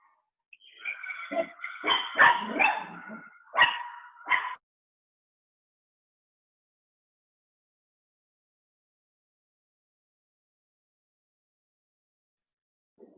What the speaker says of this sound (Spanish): los perritos a veces se ponen un poco inquietos